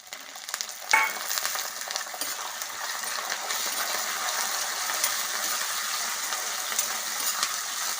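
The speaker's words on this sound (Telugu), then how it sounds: "పోపు ఇలా వేగిపోతుంది కదండి" Spices, green chillies and curry leaves crackle and sizzle in hot oil, a dense steady frying hiss with a sharp metallic clink near the start.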